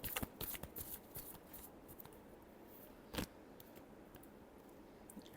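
Tarot cards are shuffled close up, giving a quick crisp riffle of papery flicks at first that settles into softer sliding, with one sharp snap midway.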